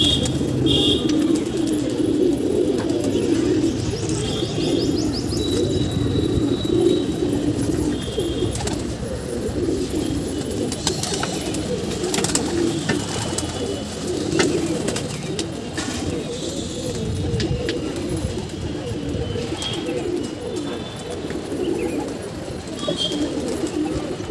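Pigeons coo steadily and softly in a low, continuous murmur at a home roost, with faint chirps and background noise throughout.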